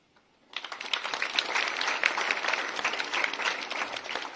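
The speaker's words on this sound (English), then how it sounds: "Big clapping, Master Ajay Kumar." Students clap for a prize winner at a school ceremony, the applause breaking in suddenly after a brief quiet moment and continuing as brisk, fairly quiet, crowded clapping from a nearby audience.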